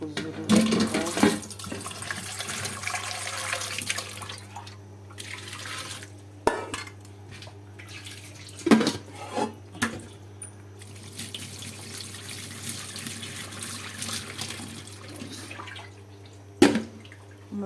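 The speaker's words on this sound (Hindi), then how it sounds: "यहाँ पे धो लेते हैं, क्योंकि मैंने पानी में इसको खुले पानी में धो दिया है" Tap water running in a kitchen sink while mustard greens are washed for saag, a continuous splashing flow broken by louder clanks and splashes of handling.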